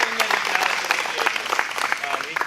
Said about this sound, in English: let's give Felix a round of applause and thank him for everything that he does in aviation